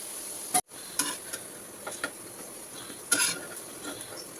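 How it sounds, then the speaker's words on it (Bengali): Potatoes frying in oil in a pan, a continuous soft sizzle close by with occasional spatula scrapes and clinks against the pan. "আলুগুলোকে হালকা হালকা লাল করে আমাদের ভেজে নিতে হবে"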